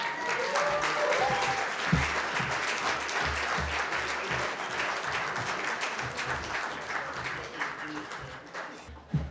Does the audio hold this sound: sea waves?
no